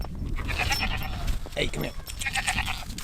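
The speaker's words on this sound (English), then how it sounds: "Buddy's got some goats" Goats bleat repeatedly in a field, several loud close calls overlapping with someone talking to a dog nearby.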